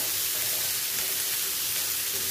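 Onion, tomato and cashew pieces sauté in a pan for a matar mushroom masala, giving a steady, even sizzle with faint stirring. It stays fairly quiet throughout, with no talking.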